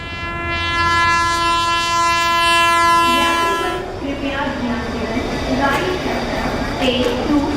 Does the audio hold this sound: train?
yes